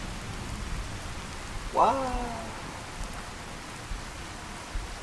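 Steady rain from a rain mod in the video game Fallout 4 hisses softly in the background, with a brief exclamation from a man partway through.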